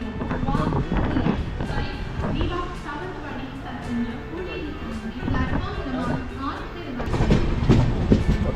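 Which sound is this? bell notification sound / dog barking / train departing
train departing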